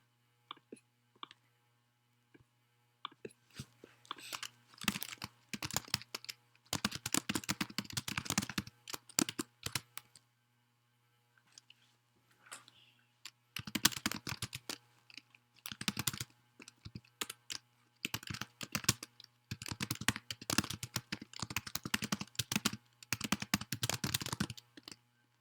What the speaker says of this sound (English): I'll type it for you.